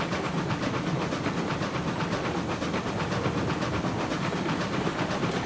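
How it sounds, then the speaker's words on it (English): Model railway train running on a new track layout: a continuous rolling rumble with rapid rhythmic clicking of wheels over rail joints, steady and close throughout, with no speech. "when the train starts to slow, I can work out where I need to put a little bit more power on."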